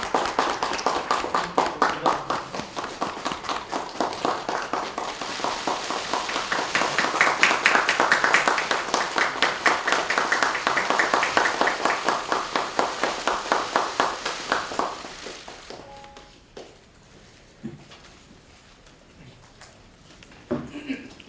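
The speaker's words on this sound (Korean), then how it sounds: "소방과 자랑스러운 우리의 소방 가족들을 큰 박수로 맞아주시기 바랍니다." A crowd at a party recruitment event gives a big round of rhythmic, synchronized clapping to welcome firefighters and their families, loud and sustained for about fifteen seconds before stopping abruptly, followed by quiet room noise and a few stray claps.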